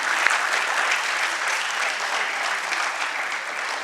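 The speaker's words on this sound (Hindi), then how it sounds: "अनामिका जी से निवेदन करूंगी, जोरदार तालियां हो जाएं।" Steady, dense applause from an audience welcoming guest artists at a stage performance, sustained and fairly loud throughout with no speech over it.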